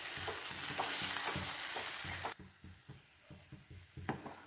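Kadhi with okra stirred in a pot: a sizzling, bubbling wash with rhythmic spoon strokes, which drops sharply halfway to quieter, distinct stirring knocks.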